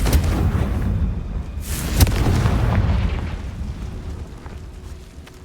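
A fiery blast spell from the Hogwarts Legacy video game goes off with a loud, close boom and sharp crack that rumbles and slowly fades over several seconds.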